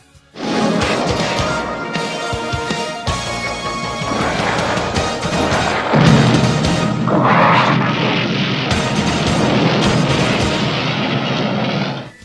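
Loud, dense action sequence from the animated film The Transformers: The Movie: repeated booming explosions and crashing debris layered over a continuous roaring din, with sharp zapping laser bursts scattered throughout.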